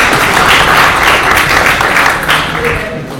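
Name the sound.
audience applause at conference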